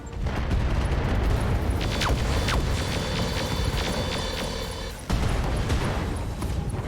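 A booming explosion in the RogueTech video game rolls out with crackling debris and scattered sharp impacts, then a second heavy blast hits near the end.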